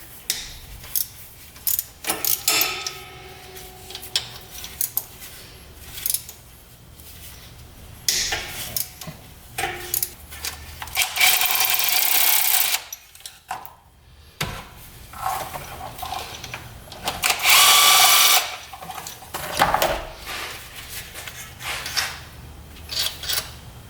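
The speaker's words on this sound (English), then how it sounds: "we're getting off the side bolts here. These two 8mm." Bolts being removed from the side of a UTV engine with 8mm tools, heard as scattered metallic clicks, ratcheting and jangling taps up close, with two longer bursts of harsher scraping.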